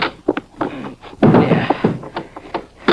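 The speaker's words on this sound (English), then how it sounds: "Now, open the door." A door opens as a sound effect in a 1950s radio crime drama, Rocky Fortune. It is a close series of clicks, knocks and a heavier thunk with rustling handling noise.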